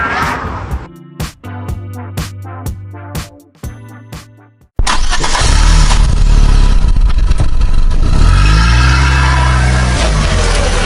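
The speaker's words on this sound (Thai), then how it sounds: "วันนี้มาดามโงนะคะจะขับรถไปให้ลูกค้าดูที่อำเภอเมืองจังหวัดบุรีรัมย์นะคะ เป็นยาริสสีแดงคันงามของเรานะคะ" A red 2015 Toyota Yaris 1.2 E hatchback first clicks and clatters, then settles into a steady, loud engine drone with rising revs as it drives off.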